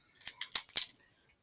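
Kitchen scissors handled during a seafood boil with snow crabs, giving four quick close metallic snips and clicks in a tight burst before going quiet.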